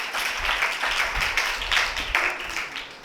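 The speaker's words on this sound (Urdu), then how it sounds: "زوردار تالیوں میرے خدا کے لیے" A church congregation claps loudly for God at a pastor's sermon, with dense, continuous applause filling the room and no speech over it.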